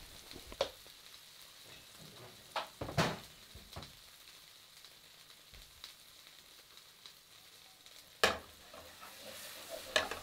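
Pepper sauce being stirred in a frying pan with the heat off to cook off alcohol, soft scraping stirs and occasional sharper utensil knocks over a faint steady sizzle.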